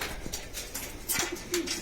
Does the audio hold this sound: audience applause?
no